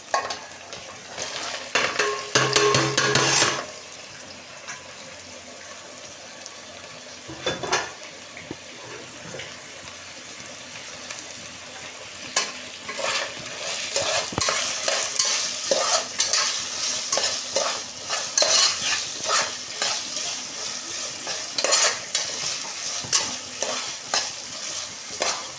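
Onions, green chillies, carrot and potato frying in a pan, with a steady sizzle and repeated scraping and stirring strokes of a spoon throughout, plus a few louder clattering moments near the start.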